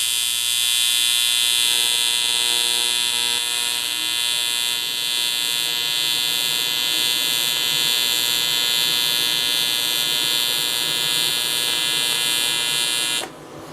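A PrimeWeld TIG 325 welder running on AC gives off a steady, loud electrical buzz that holds for about thirteen seconds and then cuts off abruptly at the end.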